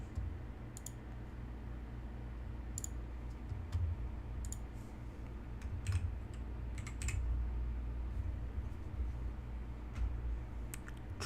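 Typing on a computer keyboard, quiet and close, with irregular bursts of light key clicks over a low background hum.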